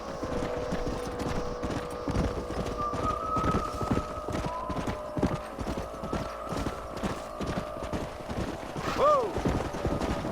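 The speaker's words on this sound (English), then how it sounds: "don't let those horses out of your sight" Horses clip-clop in Red Dead Redemption, a steady run of hoofbeats throughout with a brief whinny near the end over game background sound.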